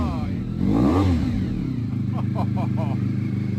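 A Honda NR 750 Black Series motorcycle idles close by, surges through a throttle blip early on, then settles into a throbbing idle with a few small pulses of revs while people talk over it.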